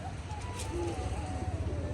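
Soft, low pigeon cooing repeats steadily under a faint background hiss, with a few distant bird calls mixed in.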